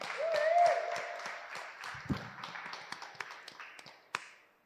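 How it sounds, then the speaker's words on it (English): A small crowd claps, the applause fading quickly to a few scattered claps, with a brief voice sound early on. "Give Anu a big round of applause, please."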